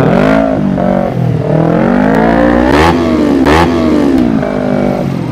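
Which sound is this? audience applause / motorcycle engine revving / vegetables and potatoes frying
motorcycle engine revving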